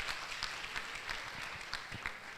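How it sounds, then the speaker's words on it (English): Audience applause at a medical induction ceremony for a graduating MBBS class, a steady wash of many hands clapping at moderate level, fairly distant and even throughout. "Clap for that now."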